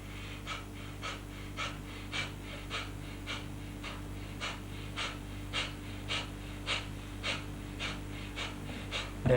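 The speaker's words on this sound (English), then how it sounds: "inhaling, exhaling fast, with the abdomen going up and down like that. You can feel the breath force." Fast, forceful yogic bellows breathing, with the abdomen pumping, produces a rapid, regular series of sharp, close breath bursts, roughly three per second, steady throughout over a low background hum.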